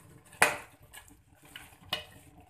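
A spoon stirs aloo gobi chicken in a metal pot, making two sharp clanks against the rim plus softer scraping knocks in between, close and fairly clear with no talking.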